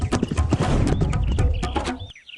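A ridden mare's hooves clip-clop in a rapid, steady rhythm, loud and close like a cartoon sound effect, stopping abruptly near the end.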